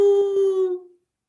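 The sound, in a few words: dog howling at night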